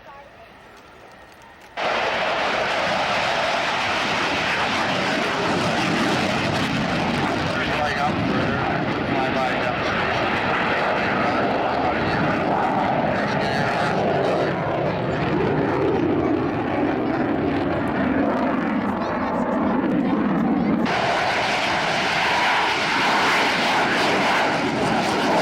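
Loud, sustained roar of LB-30 aircraft engines at a 1998 Michigan air show, starting abruptly after a quiet moment and holding steady for about twenty seconds with a shifting drone as the plane passes.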